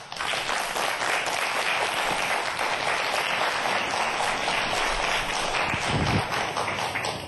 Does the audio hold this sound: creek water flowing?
no